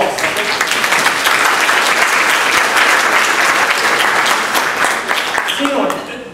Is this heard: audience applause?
yes